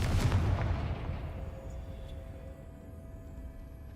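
A Confringo fire spell blast in the Hogwarts Legacy video game lands as a single deep, booming explosion at the start, then rolls off into a long decaying rumble, with no voices.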